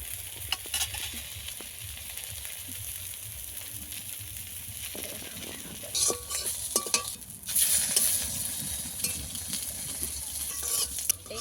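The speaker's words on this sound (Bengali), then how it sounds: "হালকা জ্বালানি দিয়ে এই ডিমগুলোকে ভেজে নিতে হবে।" Eggs frying over low heat in a pan for an egg and eggplant curry, a steady close sizzle broken by scrapes and taps of a spatula as they are turned, getting louder near the end.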